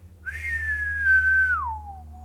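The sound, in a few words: human whistling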